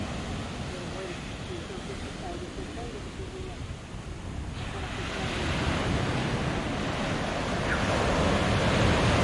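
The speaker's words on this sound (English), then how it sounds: "And there's the beautiful ocean." Ocean surf at Puerto Vallarta rushes continuously with a broad roar that swells louder partway through, mixed with wind buffeting the microphone.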